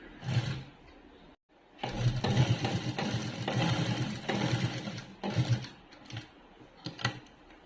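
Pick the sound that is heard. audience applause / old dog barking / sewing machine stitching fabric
sewing machine stitching fabric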